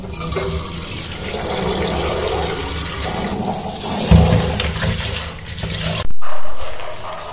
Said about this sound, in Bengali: এখানে আমি ডালটা ভালো করে ধুয়ে নিচ্ছি।